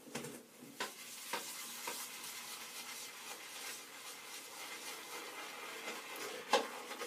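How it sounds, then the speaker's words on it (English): A shaving brush swirled in a tub of Pereira Shavery soap gives soft wet scrubbing and lathering strokes, close and quiet, with a few sharper taps against the tub. "I'll pop the lid on this soap, and then I'll start loading my brush"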